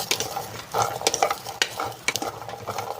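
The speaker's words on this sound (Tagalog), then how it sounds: "Halu-haluin lang natin hanggang sa masangag" Garlic sizzles and crackles while frying in a pan, stirred with a utensil that scrapes and taps the metal in quick, irregular strokes, close and fairly loud, without any talk.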